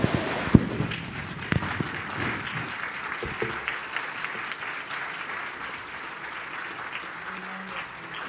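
Applause at the opening panel of the AfCFTA business forum in Kigali, moderate clapping from a large hall with a few sharp knocks and shuffling early on, gradually tapering and growing fainter toward the end.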